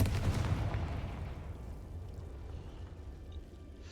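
In Hogwarts Legacy, a Confringo fire spell explosion bursts with a loud, deep boom right at the start, then rumbles and fades over a few seconds.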